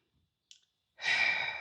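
A single deep exhale, broad and breathy, swells up close after a brief faint intake and holds steady to the end, taken while holding a calf stretch with bent knees and heels pressing down.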